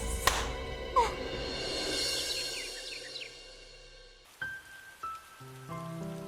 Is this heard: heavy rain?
yes